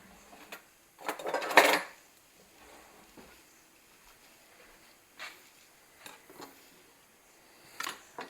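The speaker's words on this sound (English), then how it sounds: "So let me get me a big knife." A big kitchen knife is pulled out in a home kitchen while pickles are being made, giving a few sharp metallic clatters and clinks, the loudest cluster near the start, then scattered lighter knocks in a quiet room.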